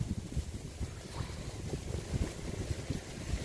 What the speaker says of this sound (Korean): 바람이 엄청 붑니다